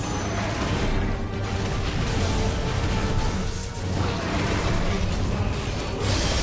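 Explosion in the video game Final Fantasy XVI, a dense, loud roar of crashing blasts and whooshing impacts that fills the whole span, with two brief dips and game noise throughout.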